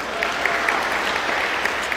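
A live audience at a Sadhguru talk breaks into applause, dense continuous clapping from many people, fairly loud and close.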